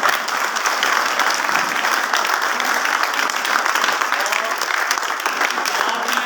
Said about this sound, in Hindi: सबसे पहले जोरदार तालियों से कोच साहब का स्वागत